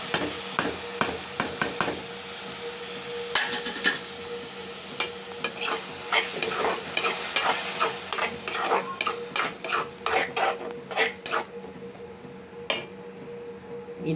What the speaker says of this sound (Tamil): தக்காளி வதங்கிட்டுருக்கு